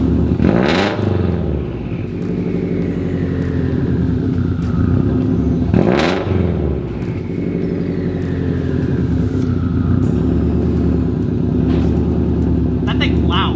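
A 2004 Subaru STI engine runs loud and steady, a continuous rumbling drone with a few sharp revs rising over it, while people talk over the noise.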